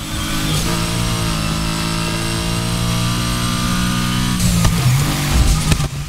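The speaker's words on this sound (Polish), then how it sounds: "ale mnie jara ta BMW teraz, ten dźwięk" BMW car in Need for Speed Heat with a steady, loud engine drone held at constant revs, then a louder burst of revving near the end; no talking.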